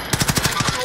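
Rapid burst of gunfire in the video game Rebirth, about nine evenly spaced close shots in under a second, loud and punchy with no talk over them.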